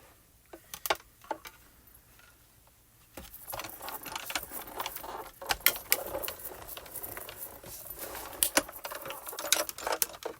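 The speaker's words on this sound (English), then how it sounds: "I'm going to take my larger squoval that I want to frame here and cut that out." A die cutting machine runs a squoval die and cutting plates through, giving a rough, rattling mechanical crunch with sharp clicks, loud and close, preceded by a few quieter handling taps.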